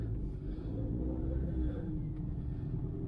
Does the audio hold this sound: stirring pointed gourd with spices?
no